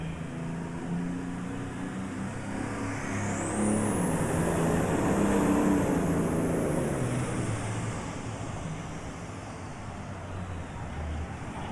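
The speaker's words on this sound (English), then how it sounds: "Lost the boost, had some problems, and the tractor just went down on him." John Deere tractor roaring at a farm machinery show tractor pull, a loud sustained engine drone with a rising high whine that holds and fades as the machine loses boost, heard at a distance across an arena.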